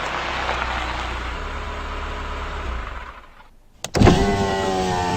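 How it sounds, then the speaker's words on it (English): In a video game, a car approaches with a steady engine rumble that fades out, then a door-like clunk and a new engine or mechanical hum starts abruptly. "I hear a car coming."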